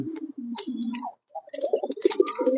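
Chandan pigeons coo close by in soft, throaty bursts with a brief pause, their calls repeating in low rolling phrases.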